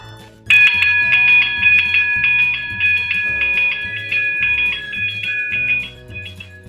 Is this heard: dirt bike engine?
no